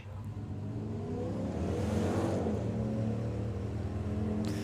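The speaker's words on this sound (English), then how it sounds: "This is an incredibly quick street car" A very quick street car accelerates hard at a drag race, engine roaring and rising in pitch as it pulls away, loud and continuous with crowd-like ambience beneath.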